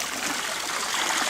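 Water running down a Geo sluice box, a steady hissing trickle and gush, close and continuous for a brief moment with no talk.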